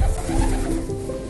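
A pet pigeon coos nearby in low, throaty, rolling tones that fill the whole short stretch.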